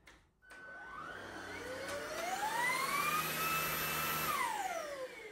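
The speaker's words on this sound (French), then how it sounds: "ça redevient l'aspirateur balai lambda debout" A cordless stick vacuum cleaner switches on and runs steadily, its motor whine rising in pitch as it spins up, holding a high whirring tone and then dropping slightly toward the end, close and alone.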